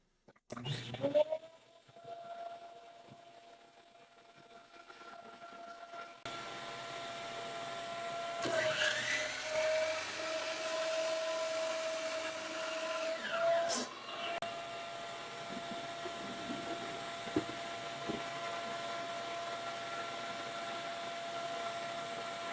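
A DEWALT miter saw fitted with a dust collection boot whines up and cuts panels to length while the dust extraction runs, a steady close motor drone with a louder surge during the cut.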